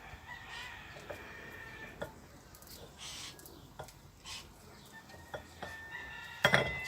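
Roosters crow faintly in the distance, a few drawn-out calls over quiet room noise, with occasional light clinks and a sharper ceramic clatter close by near the end.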